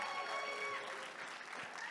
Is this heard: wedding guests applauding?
yes